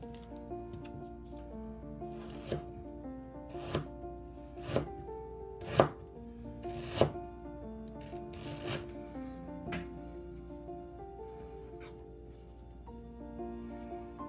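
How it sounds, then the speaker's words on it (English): A knife chops fresh ginger on a board in a series of irregular taps, some sharp and loud. Soft background music plays underneath. "We cut some ginger"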